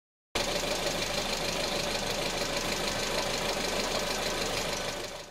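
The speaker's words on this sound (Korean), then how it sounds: "이걸 노킹이라고 합니다. 엔진 손상을 일으키는 최악의 상황을 말하죠." A car engine knocks from low-octane fuel, a steady rapid metallic pinging over a constant mid-pitched engine hum. The sound is loud and close, with no talk.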